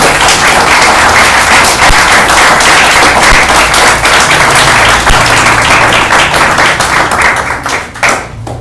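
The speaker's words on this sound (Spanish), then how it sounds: "Dale un aplauso a Dios." A church congregation claps loudly and vigorously in dense, continuous applause for several seconds. It stays close and strong, then tapers off with scattered last claps near the end.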